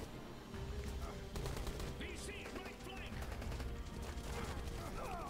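Gunfire in Rambo The Video Game: rapid, sustained automatic bursts of shots, loud and close, with game noise around them.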